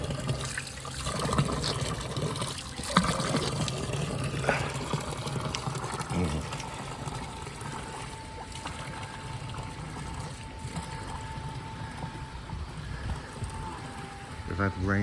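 Spring water runs and trickles steadily as people fill their bottles at the White Springs in Glastonbury, a continuous watery wash with voices talking over it throughout.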